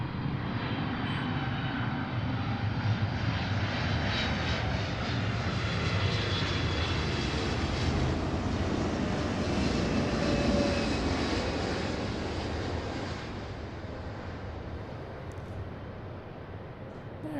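Boeing 777-200 airliner jet engines roaring steadily at an airport, a loud broadband rumble with whining tones that holds for most of the span, then eases slightly toward the end.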